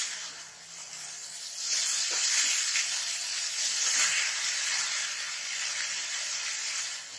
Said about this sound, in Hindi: हम मूली को इस तरह से मिलाएंगे जिससे हमारा नमक और मिर्च सब में हो जाए मूली में